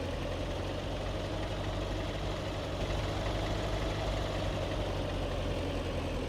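A tractor engine in Farming Simulator 19 drones with a steady low rumble, constant and fairly quiet with no clear rise in revs, heard alone without talk.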